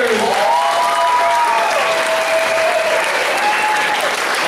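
An audience at a school play applauds second graders, a dense, sustained wash of clapping that fills the room, with a few voices cheering over it.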